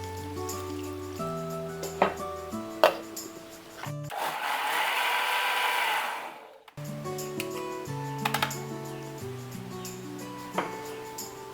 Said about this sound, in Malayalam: നമുക്കൊന്ന് മിക്സിയിലിട്ട് അരച്ചെടുക്കാം.